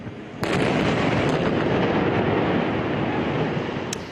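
Dense, continuous barrage of explosions and gunfire in Gaza at night, loud and sustained with sharp cracks over a rumbling wash of blasts, no talking.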